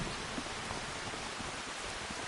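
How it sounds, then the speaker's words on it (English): Rain falls in Farming Simulator 25, a steady even hiss of broadband noise with no breaks and no voices over it. "Oh, it's raining."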